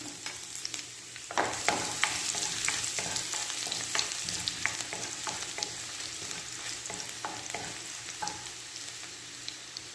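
Garlic frying in oil in a pan already used for frying hotdogs, a constant crackling sizzle close by, punctuated by repeated spatula clacks and scrapes as it is stirred.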